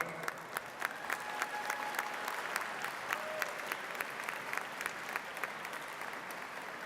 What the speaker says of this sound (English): would please join me in a round of applause for Winona